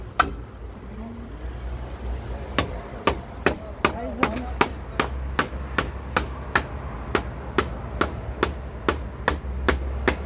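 Nails are hammered into wood while a treehouse is being built. Sharp, evenly spaced blows ring out close by in a steady rhythm, a little over one per second, against a windy outdoor background.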